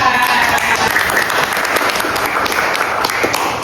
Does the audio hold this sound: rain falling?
no